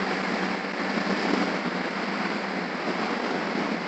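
Waves at Seme Beach roll in as a steady, broad wash of surf, loud and continuous with wind mixed in and no voices.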